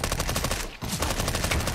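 Rapid, continuous MP5 submachine gun fire in a video game match, evenly spaced shots with one brief pause before the burst resumes, loud and close.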